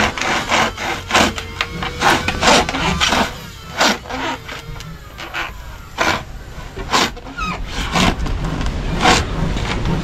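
Rhythmic back-and-forth rasping of a hand saw cutting through wood, steady strokes repeating close by.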